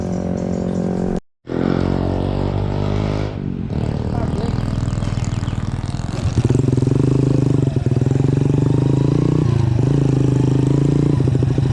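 A motorcycle used as a rice-field ojek rides along a farm road. Its engine hums and revs loud and close, drops out for a moment, then settles into a steady, strong drone.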